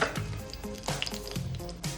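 Cumin seeds sizzle in hot oil in a wok, a close, loud crackling fry with repeated bursts of popping and stirring knocks coming in a rough rhythm.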